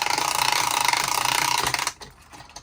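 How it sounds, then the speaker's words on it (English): The winder of a Cars toy jumping raceway is cranked with a loud, fast ratcheting whir that runs continuously for under two seconds and then stops abruptly, followed by a few light clicks. "let me crank it one more time"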